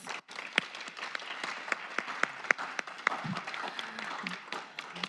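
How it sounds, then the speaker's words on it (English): A smaller audience applauds panelists after a community discussion event, sparse clapping with distinct individual claps standing out, moderately near and somewhat quiet, with a faint voice briefly underneath. "So let's give our panelists another round of applause."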